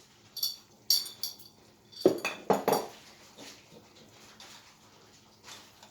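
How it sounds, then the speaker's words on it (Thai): A spoon clinks against a bowl as medium-hot roasted chili paste is spooned into a Thai noodle soup, giving several sharp, close metallic taps in quick succession, then quiet, with no talking. "ใส่น้ำพริก"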